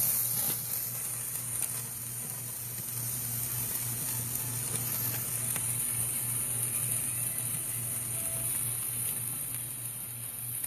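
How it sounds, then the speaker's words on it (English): A T-bone steak searing on a gas grill at the Durango Hotel, a soft steady sizzle and hiss under a low constant hum, with no talking. "I don't want to overcook this guy, but I want him seared nice."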